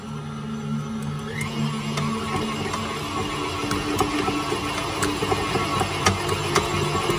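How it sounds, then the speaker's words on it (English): KitchenAid food processor mixing soaked rice dough for steamed modak, a steady close motor whir with a low hum running throughout and light clicking knocks as the dough turns over in the bowl. "KitchenAid food processor is really good for all these things, and it will make it into a very consistent basically ball"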